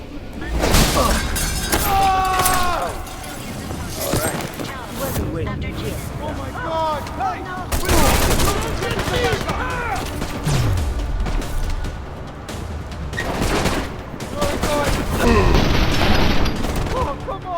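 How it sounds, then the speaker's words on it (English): Combat in Deus Ex: Mankind Divided, with gunshots, shattering and booming impacts in a busy mix of bursts throughout, heard beneath someone narrating the gameplay. "Now that we fully engaged combat, we will show some of Adam's augmentations"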